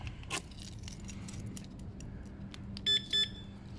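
A Zontes Mantis 125 cruiser motorcycle's alarm gives two short, high electronic chirps in quick succession near the end, following a stretch of quiet room noise and faint handling clatter.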